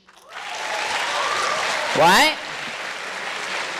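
A comedy show crowd claps steadily throughout, with a performer's brief spoken interjection cutting in over the applause midway.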